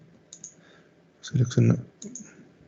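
Computer mouse clicks while selecting items in an electronics circuit simulation program, a few sharp short clicks near the mic, with a person speaking briefly in the middle.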